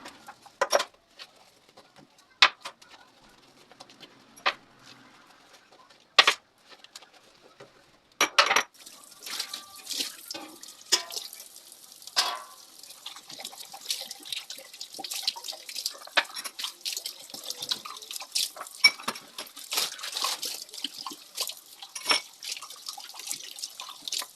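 Dishes are washed at a kitchen sink, with drips and trickling water, scattered clinks and taps, then a continuous run of water from the tap with light rattling of dishes, all fairly quiet and close.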